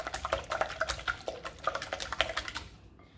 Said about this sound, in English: whisk your eggs together